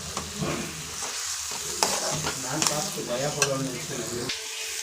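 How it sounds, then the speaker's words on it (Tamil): Four eggs are broken and stirred into sizzling masala in a frying pan, a steady close sizzle with scraping spoon strokes and small clinks against the metal. "இதை வந்து இதோட கலக்கி விட்டுறணும் ஒடிச்சு கலக்கி விட்டுறணும்"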